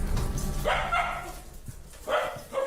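A black dog barks close by in a few sharp bursts with short gaps, loud and clear, with a little whimpering between barks.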